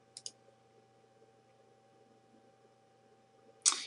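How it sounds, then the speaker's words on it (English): A single crisp mouse click on a website submit button, close and quiet, preceded by a couple of faint clicks in an otherwise near-silent room. "now I'm going to click on the submit button."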